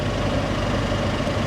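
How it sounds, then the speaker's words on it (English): A flood-damaged Mercedes engine idles with a dense, steady mechanical chatter, a continuous close rumble that holds level throughout without pauses or voices. "The engine's chattering a little bit."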